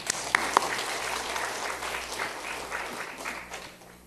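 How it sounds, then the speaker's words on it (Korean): A church congregation applauds during a Wednesday evening service, starting with a couple of sharp claps and swelling into steady, fairly close clapping that tapers off toward the end. "박수 한번 쳐주세요"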